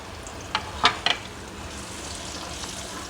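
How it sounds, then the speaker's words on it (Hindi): Raw mango pieces fry in turmeric-spiced oil for achari launji, a soft continuous sizzle with a few sharp stirring clinks near the start, close and quiet, no voices. "इस तरीके से हम इसको इसमें अच्छी तरह से भून लेंगे।"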